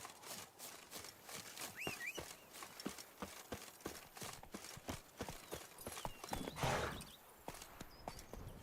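Horse hooves clip-clop steadily at a walking pace in the video game Witcher 3, a regular train of sharp knocks over a soft ambient backdrop, with a brief whinny-like call early on.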